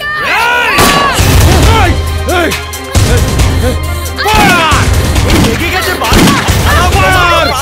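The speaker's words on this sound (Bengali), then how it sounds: "সমীর বাবু, আপনারা সারেন্ডার করুন, না হলে আমি গুলি চালাতে বাধ্য হব।" Gunfire in a Bengali film action scene: sharp bursts of shots break through loud, shouting voices and dramatic sound, recurring throughout the scene.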